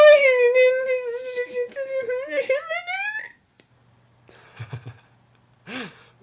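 A voice imitates an incoherent, excited girly mumble: about three seconds of high, wavering, sing-song vocalising with no real words, followed by a pause and a few faint breathy sounds.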